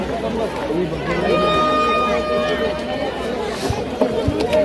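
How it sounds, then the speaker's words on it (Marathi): Dense crowd at the Wada Tilsa temple fair, a steady hubbub of many voices and footsteps with a faint tonal whine running through, close and continuous, with talk in the mix. "की गर्दी आहे ना की काय सांगायचं"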